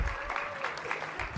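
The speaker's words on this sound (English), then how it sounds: "give these guys a big round of applause for being volunteers" An audience at a Christ-centered healing session on body language claps for volunteers called up front, producing a steady, full burst of applause with a voice faintly underneath.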